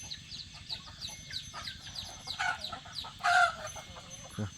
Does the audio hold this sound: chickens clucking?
yes